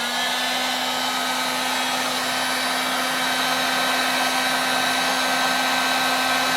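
A big heat gun heating glue during disassembly of a halogen oven blows with a loud, constant whooshing roar and steady motor hum throughout, with no talking.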